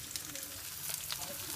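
Small pieces of goat brain frying in a pan with curry leaves, a soft, even sizzle with faint crackles, fairly quiet and brief.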